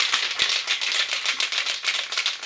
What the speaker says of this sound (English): So first step is going to be to basically shake the paint can.